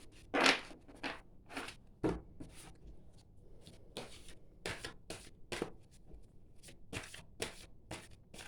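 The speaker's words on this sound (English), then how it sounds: "I'll just shuffle and see what else I've got." Reading cards shuffled by hand in a series of crisp riffling bursts, some sharp and loud, others softer, spaced irregularly, with no talking.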